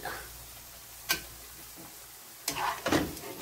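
Dates fry in a pan for sheer khorma: a low, steady sizzle broken by a few sharp clicks of stirring against the pan.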